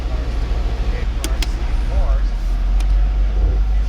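A car engine idles steadily with a deep, even rumble close by, while a few brief clicks and a short squeak sound over it.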